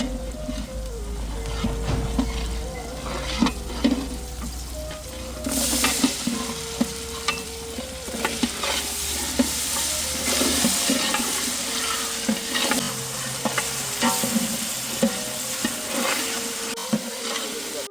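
Peas, aubergine and potatoes frying in a pan in a village-style mixed vegetable dish produce a loud, steady sizzle with frequent spoon scrapes and clatters, and a tonal hum underneath that comes and goes.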